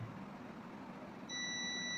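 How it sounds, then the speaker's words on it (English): Quiet room hum, then a multimeter's continuity buzzer starts a steady, high continuous tone that holds to the end. "You can hear the beeping sound."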